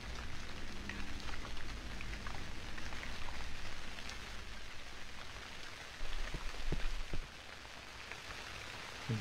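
Steady rain falling in the horror video game Cry of Fear, a dense continuous hiss with scattered drop ticks, holding at an even level throughout with a slight swell near the end.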